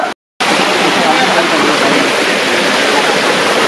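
Waterfall water rushing steadily at Ramling Waterfall near the Ramling Temple in Yedshi, a loud, dense and continuous roar that fills the whole clip apart from one short break near the start.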